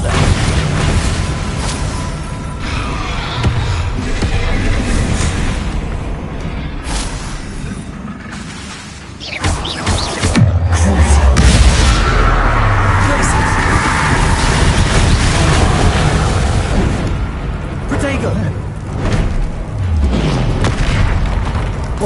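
Bombarda spell blasts in Hogwarts Legacy on PS5 thunder through a loud, dense game battle, with repeated booming explosions and low rumbles layered over clashing effects and spoken spell calls.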